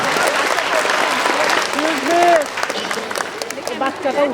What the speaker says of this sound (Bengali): ছোট্ট সোনামণি জেলাকে জোরে করে তালি দিব আমরা